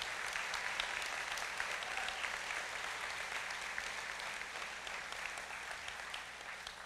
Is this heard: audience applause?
yes